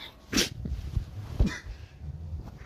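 A loud, sharp sneeze bursts out early, followed by a second sneeze about a second later, with soft breathing and snorting sounds between.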